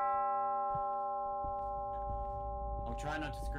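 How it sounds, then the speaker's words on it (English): A loud sustained bell tone in the Demonologist horror video game, ringing steadily with rich overtones while a brief voice and rustling noise break in near the end. "that's a really loud bell"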